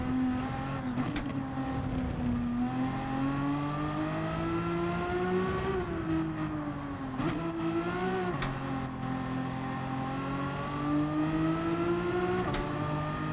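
Renault Megane engine in Gran Turismo 7 racing, a steady droning whine that rises and falls with revs and gear changes throughout, loud and continuous with no talk.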